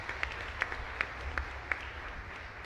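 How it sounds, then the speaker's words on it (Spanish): Faint, distant applause from a congregation at a live Mass in the Capilla San Blas, with a few louder individual claps standing out over a soft, steady patter. "Fuerte aplauso para el Señor entonces"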